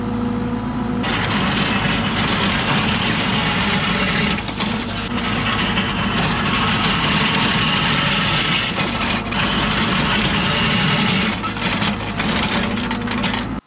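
Digging machine excavating a sewer over gravel, its heavy diesel engine running in a steady low drone with rising revs, hydraulic whine and scraping clunks, loud and close throughout.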